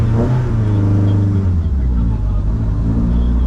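A Peugeot 106 on a lap of the Nürburgring, its engine note rising and then settling with clear harmonic pitch sweeps, a steady close-up rumble throughout with no talking.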